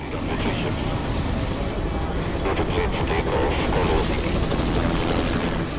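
India-made Prachand light combat helicopter at an induction ceremony, its rotor and turbine making a loud, steady, rushing roar throughout, with faint voices beneath the noise.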